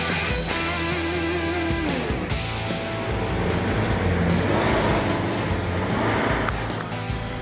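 A car driving fast around a race track, engine revving up and down through gear changes, with a tonal note that drops then climbs again amid road and tyre roar.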